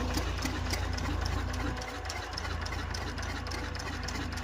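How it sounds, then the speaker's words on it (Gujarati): A tractor engine runs at a steady, rumbling idle close by, a continuous low drone with a slight dip partway through and faint background voices. "જો અહીંયા ટ્રેક્ટર"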